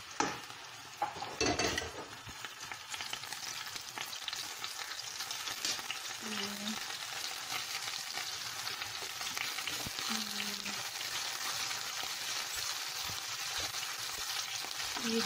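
Dry fish fries steadily in a pan, making a continuous bright sizzle that holds at an even level throughout, with a few stirring scrapes near the start and no voices.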